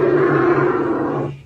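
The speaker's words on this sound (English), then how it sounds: "First, the Australian bustard. When it opens its mouth, it sounds like a lion is roaring." An Australian bustard gives a deep, close, rumbling call like a lion's roar, held steady for over a second before it fades out.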